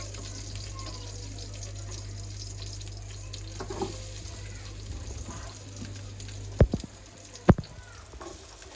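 Spices frying in a pan as they are added one by one during cooking, a steady low sizzle with a background hum and a couple of sharp knocks near the end.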